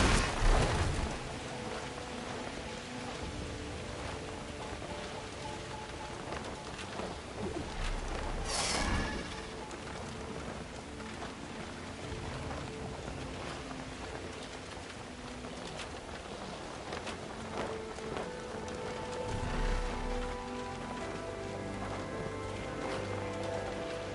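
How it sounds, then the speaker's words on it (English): Rain falls steadily in the video game Horizon Forbidden West, a soft constant hiss with a couple of brief louder gusts and low rumbles, under faint game music tones. "Wings are slick with rain."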